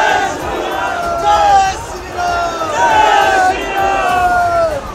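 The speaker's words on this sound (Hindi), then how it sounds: "भगवा झंडों के साथ पहुंचे लोगों ने वहां हनुमान चालीसा का पाठ किया और इसके बाद नारेबाजी शुरू कर दी।" A dense crowd of protesters carrying saffron flags chants slogans in rhythmic, overlapping shouts outside a shop, loud and close, with voices rising and falling together over continuous crowd noise.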